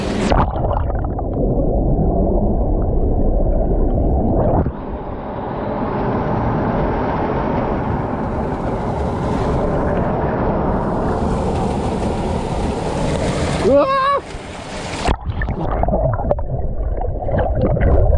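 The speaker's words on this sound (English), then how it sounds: "We're in the waterfall." Continuous loud rush of a waterfall on the Potato Knob Trail in Holly River State Park, West Virginia, heard up close as a steady broadband roar, with a brief whistling squeal near the end.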